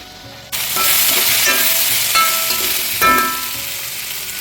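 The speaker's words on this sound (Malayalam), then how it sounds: "ഇനി ഇതിലേക്ക് തക്കാളി ഇട്ട് കൊടുക്കാം ഞാനിവിടെ ഒരു തക്കാളിയാണ് എടുത്തേക്കുന്നത് ഇതും നന്നായിട്ട് വഴറ്റിയെടുക്കാം" Tomato sautéing with onions in a pan for a soya chunks curry: a steady, loud sizzle starts abruptly after a brief quiet moment, with small surges as the pan is stirred.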